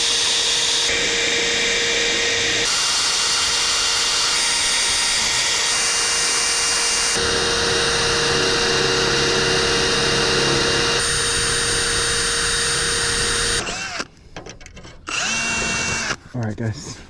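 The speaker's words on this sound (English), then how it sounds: "grab my 1/8 drill bit, drill those pilot holes" A power drill with a 1/8 inch bit runs loud and continuous for a long stretch, drilling pilot holes in a 1968 Chevrolet C10 truck frame, its pitch shifting slightly, then stops and gives a few short bursts.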